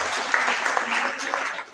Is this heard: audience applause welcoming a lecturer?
yes